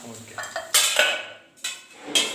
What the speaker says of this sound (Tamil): இப்போ நான் இதை வந்து ஒரு பிளேட்டுக்கு ட்ரான்ஸ்ஃபர் பண்ணிக்கிறேன்